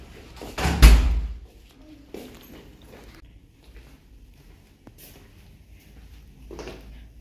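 A hotel room door at the Four Points by Sheraton in Dubai opens with a loud close thump and rattle, followed by quieter footsteps and small knocks as people move into the room.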